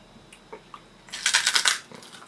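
Spicy Madras pork crackling crunched while chewing, a burst of dry crisp crackles up close after a few quieter clicks, no talking.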